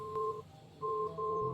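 A phone beeps from inside a pair of pants, giving a muffled electronic tone repeated in short pulses with brief gaps, steady and moderately loud indoors.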